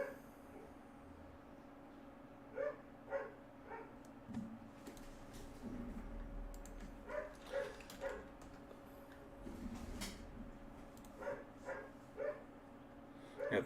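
A dog barks in short bursts of two or three, repeating several times at moderate distance over a steady low hum and faint background noise.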